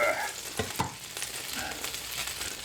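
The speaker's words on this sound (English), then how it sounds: "Look at that sizzle." Bacon and sausage sizzling on an air fryer grill plate, a soft steady crackle and spit with a few brief clicks and scrapes, fairly quiet and close, with no speech.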